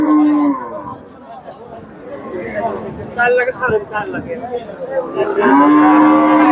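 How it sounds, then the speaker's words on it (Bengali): At the Chandaikona cattle market in Bangladesh, a Friesian cow lets out a loud, drawn-out moo, then market chatter and voices fill the middle before a second long, close moo rises at the end. "ফ্রিজিয়ান জাতের গাভী"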